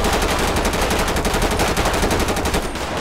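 Sustained automatic rifle fire from an M4 in GTA 5 with the LSPDFR police mod, a SWAT shootout in Sandy Shores, rapid loud bursts filling the whole stretch without a break.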